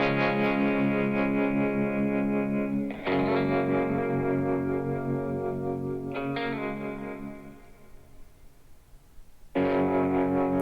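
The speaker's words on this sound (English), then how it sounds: "some of this baritone work, I'm gonna just solo that up" Soloed baritone guitar run through effects such as distortion and chorus, sustained chords ringing thickly, struck anew three times with a decaying gap before the last hit, no voices.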